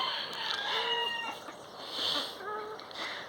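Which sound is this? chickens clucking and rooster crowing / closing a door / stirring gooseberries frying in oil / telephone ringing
chickens clucking and rooster crowing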